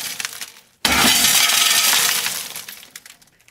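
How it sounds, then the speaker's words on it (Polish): Glass breaks with a sudden loud crash, followed by about two seconds of bright shattering and tinkling shards that slowly fade, heard alone and close. "szkło jest wszędzie"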